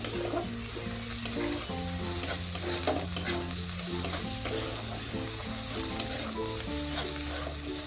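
Chopped green chillies stir-fried in a pan for an aloo-stuffed kochuri filling, with a steady close sizzle and frequent scraping and clinking of a spatula against the metal, with background music playing throughout.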